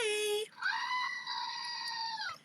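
A goat screams in two loud, strained, harmonic cries, a short one and then a longer wavering one, close and alone.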